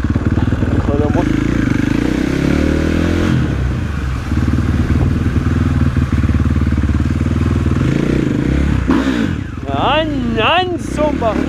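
KTM 450 SXF motorcycle engine revving hard, a loud, steady high-pitched four-stroke roar with rising and falling revs near the microphone, while someone talks over it.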